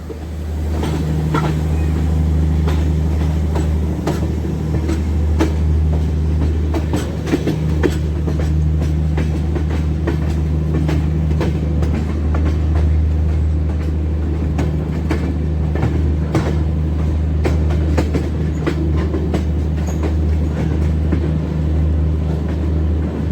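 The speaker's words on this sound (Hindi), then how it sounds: "ये है WDG-4G, जिसका नंबर है 49085, जो कि मालगाड़ी का सबसे पावरफुल डीजल लोकोमोटिव है" The Kaifiyat Express 02226, hauled by WDG-4G diesel locomotive 49085, runs out of Ayodhya toward Shahganj with a loud, continuous engine drone and scattered clicking wheel beats throughout.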